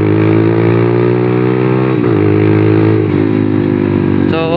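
A Motorstar Explorer 250cc V2 motorcycle engine idles steadily and loudly up close, with a brief rev near the end; no one speaks.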